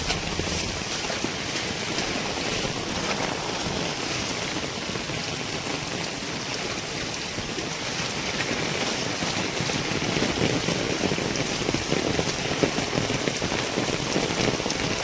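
Heavy monsoon rain pours down without a break in north Gujarat, a dense, even hiss of water hitting surfaces that stays loud and steady throughout.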